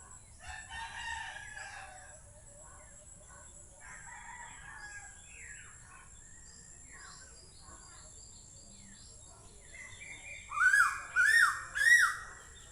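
Faint birds chirp and twitter in the distance, then a rooster crows loudly nearby, its call breaking into three rising bursts near the end.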